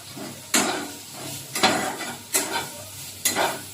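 Soybean chunks sizzle as they fry in a little oil in a pan, with four sharp scrapes of a spoon stirring them against the metal over a steady close sizzle.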